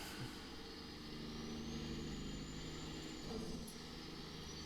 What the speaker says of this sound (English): Love that Jake brake.